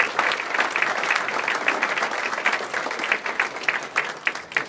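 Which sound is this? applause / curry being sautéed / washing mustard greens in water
applause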